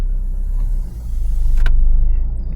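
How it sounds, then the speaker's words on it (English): A car engine turns on nearby with a loud, deep rumble that dips briefly, then swells back to a steady idle, with a faint click partway through. "Let me turn the car on."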